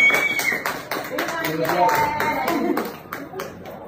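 A group of people claps hands in irregular bursts of sharp, close slaps, mixed with talking voices throughout.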